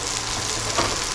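Garlic sizzles in a hot pan as part of a stir fry with onion and asparagus, a steady close frying hiss that swells briefly near the end.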